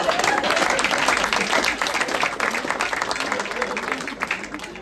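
A crowd at a French stand-up comedy show breaks into loud applause that slowly tapers, with scattered cheers and voices mixed in.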